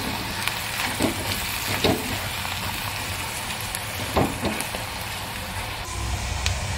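Turmeric and garam masala fry in a pan with a steady, close sizzle, and a few soft scrapes of stirring come through.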